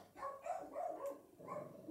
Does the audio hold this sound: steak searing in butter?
no